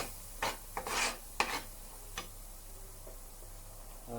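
Lemon rice with turmeric powder is stirred in a pan, giving a few close, soft scraping and rubbing strokes in the first second and a half before the rest fades to quiet kitchen background.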